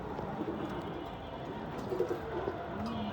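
Soft, low coos from a male pigeon rise a few times over a steady background hum on a rooftop, close by and fairly quiet.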